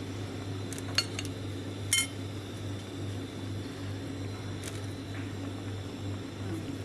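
Metal pot lid clinking a few times while bamboo shoot curry cooks on a gas stove, a couple of sharp near clanks over a steady low hum.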